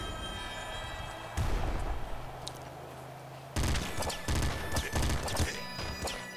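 Gunfire in the video game Nuclear Throne: a brief burst of impacts, then a denser run of rapid, punchy shots and crashes over steady in-game music.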